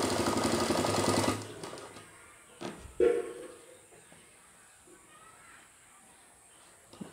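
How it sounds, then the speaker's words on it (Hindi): A sewing machine runs a fast, loud burst of stitching on a sleeveless bandi jacket for about a second, then stops, leaving a few soft clunks and near-silence. "ऊपर से सिलाई लगाना है।"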